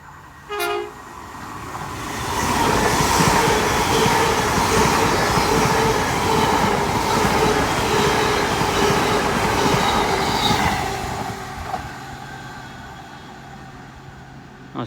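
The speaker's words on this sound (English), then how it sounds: "about to come through now will be a late running Great Western Railway service from London Paddington going to Plymouth. 10 car on this one." A Great Western Railway 10-car passenger train from London Paddington to Plymouth passes at Dawlish Warren. Its horn gives a short blast at the start, then a loud, sustained rumble of wheels and carriages swells and slowly fades.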